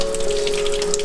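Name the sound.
fresh water running from newly installed well pump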